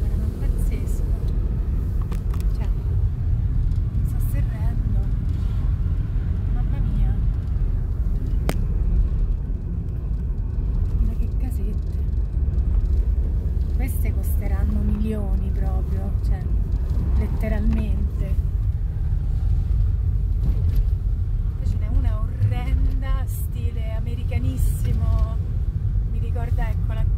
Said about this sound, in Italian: purtroppo si sentirà solo il rumore della macchina in videocamera